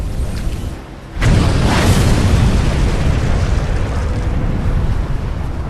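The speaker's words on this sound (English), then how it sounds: "Before slipping beneath the surface, her powder magazine detonates." A massive, sustained roar as the Japanese battleship Yamato's powder magazine detonates during her sinking in April 1945, bursting in suddenly after a brief lull and rumbling on loudly without fading.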